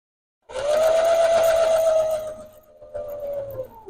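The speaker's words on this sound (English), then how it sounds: "I'm going to sew it all the way down" A sewing machine starts abruptly to stitch down a quilted mug rug, a steady close motor whine that holds for about two seconds, then drops to a quieter stretch of running.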